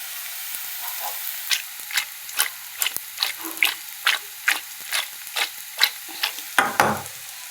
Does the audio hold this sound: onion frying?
yes